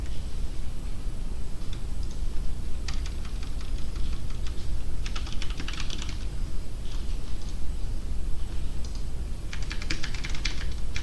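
Computer keyboard keys being pressed while programming a pygame game, light clicking taps in irregular bursts and clusters over a steady background hum, close and moderately loud.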